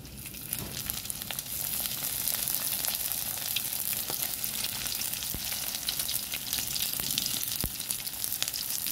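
Dried fish (daing) sizzles and crackles steadily in oil in a pan, a continuous close frying hiss with scattered pops and an occasional light stir, with no talking.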